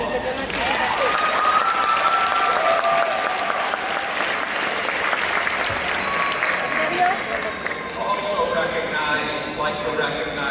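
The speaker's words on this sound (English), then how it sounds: "I think they deserve a big round of applause." A graduation crowd at a high school ceremony applauds parents and family, sustained dense clapping filling a large space, with scattered cheers and voices mixed in.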